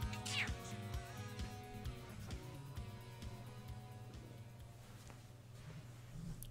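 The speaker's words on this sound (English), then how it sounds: "Can you hear my cat meowing?" A pet cat meows indoors, its cries rising over a steady hum of background music and clatter, with no talking during the clip.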